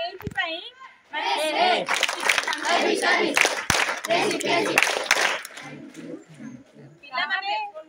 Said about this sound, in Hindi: बहुत बड़ा ताली